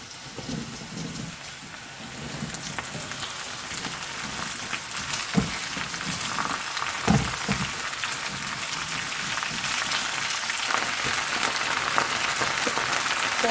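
Okra tossed into a hot pan with reddened onion and curry leaves gives a steady broadband crackle like rain, with a few louder pops and knocks along the way and no voices.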